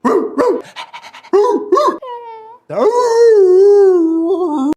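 A voice actor imitates a dog for the animated Dog Man film, with quick panting breaths, short yips and drawn-out whining, moaning howls, loud and close.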